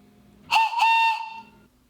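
A single shrill whistle blown from a homemade carrot whistle, loud and close, lasting about a second with a brief break near the start.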